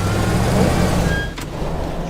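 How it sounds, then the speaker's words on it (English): A truck drives in the destruction game Teardown, a loud, steady engine drone lasting about two seconds, broken by a single dull thump near the end. "Drive this truck straight into the house."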